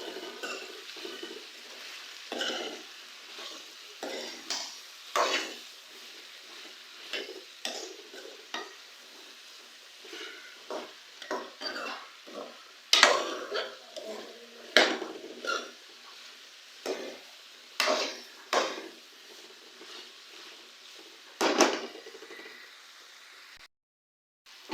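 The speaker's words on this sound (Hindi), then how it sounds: "अब हम तमाम मसाले डालने के बाद सब्ज़ी को अच्छी तरह से मिक्स करेंगे" Mixed vegetables, potato, peas, cauliflower and carrot, stirred with spices in a cooking pot. A spoon scrapes and clacks in repeated strokes over a faint sizzle, close and fairly loud, with no talking.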